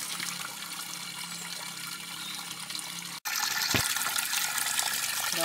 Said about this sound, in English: Drinking water here in the mountain.